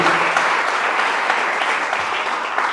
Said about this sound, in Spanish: Den ese fuerte aplauso a Él en esta tarde